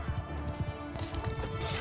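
Horse hooves of galloping horse archers in the medieval battle game Mount & Blade II: Bannerlord, a quick run of soft clip-clop beats under a busy battlefield din, with a faint whinny.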